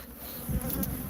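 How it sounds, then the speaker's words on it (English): A swarm of Africanized bees hums steadily and loudly at close range, a dense continuous drone with slight swells, with no talk over it. "So these bees already attacked and stung a guy"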